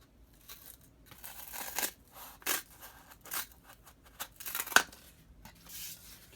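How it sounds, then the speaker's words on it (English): Scissors snip through material for a homemade smartphone speaker amplifier, a run of crisp close cuts in an uneven rhythm with brief rustles in between. "Then, let's see, I'm going to cut that one."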